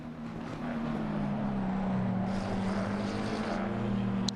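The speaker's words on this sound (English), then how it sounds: "you can just hear the McLaren up ahead" McLaren GT race car in a racing video game at Spa, its engine a steady droning whine with sustained low harmonic tones, heard at a distance ahead throughout without a break.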